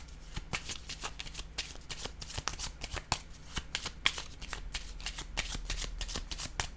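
Playing cards shuffled and drawn by hand, a steady run of quick papery riffles and flicks close up with no voices.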